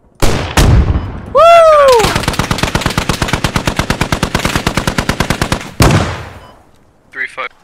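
A .50 calibre machine gun in the video game Squad fires a long, steady burst of rapid, loud shots at a Humvee, following a few opening shots and a brief whoosh, with a voice exclaiming near the start.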